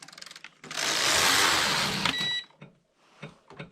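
A Passap E6000 knitting machine knits a row as its carriage makes one loud, continuous whirring, rasping sweep of about two seconds close by. Brief clicks and handling sounds come before and after.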